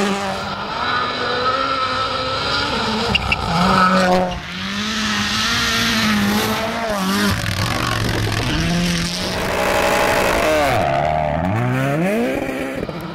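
Toyota GR Yaris Rally1 rally cars race on a snowy Arctic Lapland stage, engines revving high and shifting through gears with rising and falling pitch, loud and close, with a brief tyre squeal.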